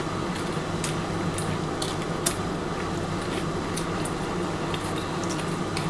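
Papad curry bubbles and simmers in a pan over a high gas flame, a soft, continuous seething hiss with faint gurgles and an occasional pop, close and alone.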